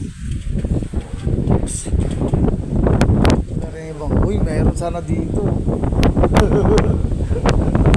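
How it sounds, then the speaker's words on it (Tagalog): Loud, steady wind buffeting the microphone with a constant roaring rush at Caliraya skypod in Lumban, Laguna, on an overcast day, while people talk over it. "ang lakas ng hangin, oh."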